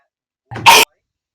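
A single sharp sneeze bursts out in a quiet indoor space, a short breathy intake followed by one loud explosive burst, then silence.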